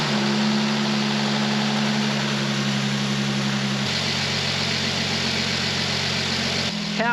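A Mercedes-Benz W205 C450 AMG engine running at a steady idle after a filter change, low humming drone throughout with a slight shift in pitch partway, no talking.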